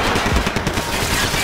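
Gunfire in the Max Payne 3 video game comes as a short burst of rapid, overlapping shots, loud and dense across the whole moment, with no speech.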